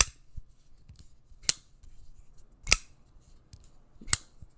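Pocket knife blade opened and closed a few times, from a firefighter's everyday carry; sharp isolated metallic clicks spaced about a second apart over a quiet background, close and alone.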